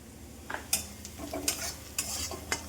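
Onions frying in a home kitchen pan, with a quiet steady sizzle broken by several sharp clinks and scrapes of a spoon stirring, heard close and alone.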